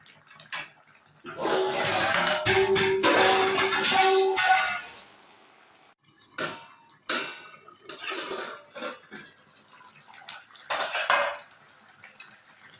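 A spoon stirs hilsa fish mustard curry with eggplant in a pan, scraping and clattering in a long burst. Lid clinks and handling knocks follow in short, separate bursts, close and moderately loud.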